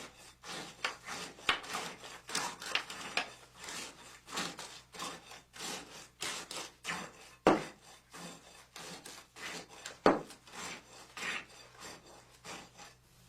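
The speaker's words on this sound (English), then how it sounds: "Strike off the top surface of the concrete with the tamping rod in a screeding and rolling motion" A steel tamping rod scrapes and rolls across the top of fresh concrete in a slump test mold, a series of close rasping strokes with a few sharper knocks.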